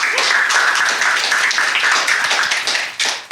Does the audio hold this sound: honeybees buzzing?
no